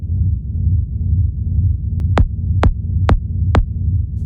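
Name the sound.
UVI Bloom low-end drone triggered by a dark techno kick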